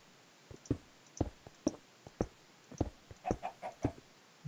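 Minecraft chicken clucks in short, sharp bursts, a dozen or so spaced irregularly, near and fairly quiet with no other sound around them.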